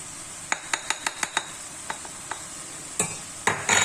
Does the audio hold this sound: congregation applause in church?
no